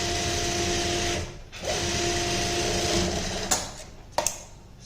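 A sewing machine stitches a pintuck neck design, running with a continuous close whir that dips briefly in the middle, then stops, followed by a few sharp clicks and taps.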